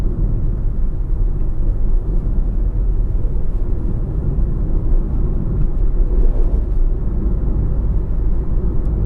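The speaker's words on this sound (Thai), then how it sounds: "ก็ยังมีเสียงอะไรเข้ามา พอสมควรนะครับ ทั้งเสียงลมเสียงรถมอเตอร์ไซค์" A 2015 Suzuki Swift 1.2 with a manual gearbox hums with steady low road and wind noise inside the cabin while driving. The rumble stays dense and even throughout, with no talk over it.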